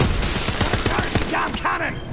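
Rapid booming cannon fire in a video game, a dense burst of heavy blasts with some shouting mixed in.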